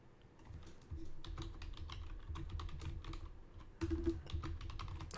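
Rapid, uneven clatter of keys on a computer keyboard while someone plays a game, the clicks close and continuous, with a few heavier bursts of strokes and no voices.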